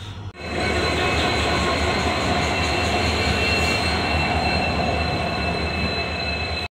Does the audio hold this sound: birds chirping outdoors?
no